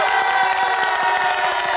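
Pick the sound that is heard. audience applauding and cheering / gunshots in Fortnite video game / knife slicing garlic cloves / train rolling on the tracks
audience applauding and cheering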